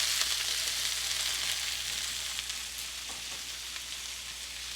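Thinly sliced onions frying in a skillet for a Mediterranean chicken dish, giving a steady, close sizzle that holds evenly for a few seconds, with no talk over it.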